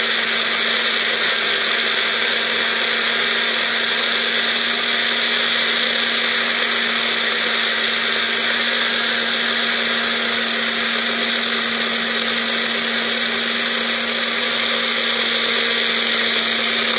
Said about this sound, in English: Then I blend it all up.